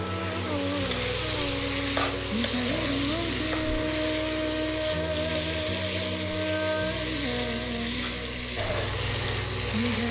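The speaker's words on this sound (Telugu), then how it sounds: "ఇప్పుడు మనం ఇందులో సోయా చంక్స్ వేసుకుందాం. మంచిగా ఫైన్గా కలుపుకోవాలి." Soya chunks stirred into a ready sauce in an oiled frying pan, a steady close sizzle with scraping stirring strokes running throughout, with no talking.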